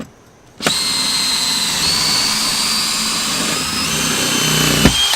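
A power drill with a 3/16 bit drills out rivets while a speaker is being removed from a 2018 Volkswagen Tiguan. It gives a steady, loud, high whine that starts abruptly after a short quiet moment and runs almost five seconds without a break.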